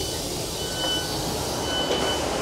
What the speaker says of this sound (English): the brand new, old, new Class 150 London Northwestern on the Marston Vale line